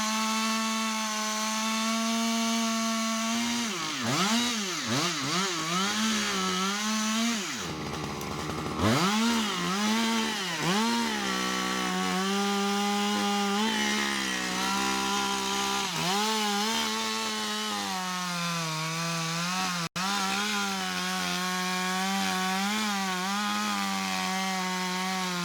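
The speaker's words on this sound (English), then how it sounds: "the team uses a large wood saw cutting machine" A large wood saw cutting machine slices through massive felled tree sections, its engine whining loud and continuous close by, with repeated dips and rises in pitch as it revs and bogs into the wood; no talking.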